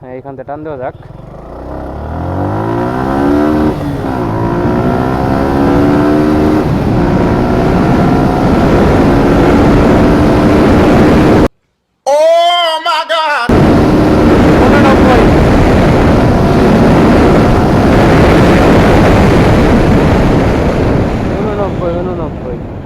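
Suzuki Gixxer motorcycle accelerating hard through three gears, engine pitch climbing and dropping at each shift, loud and close with heavy wind roar and a brief dropout in the middle.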